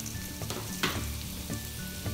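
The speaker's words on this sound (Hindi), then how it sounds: "अब मैं इसमें शिमला मिर्च डाल देता हूं" Capsicum frying in a pan for a mixed vegetable dish, a close steady sizzle with a few brief stirring scrapes and no talking.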